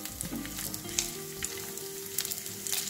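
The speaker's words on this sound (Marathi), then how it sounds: "बघा बोंबील जेव्हा मी तेलावर फ्राय करते आहे" Bombil (Bombay duck) fish frying in hot oil for a Marathi bhaji, a steady close crackling sizzle with occasional sharper pops and stirring scrapes, no voices.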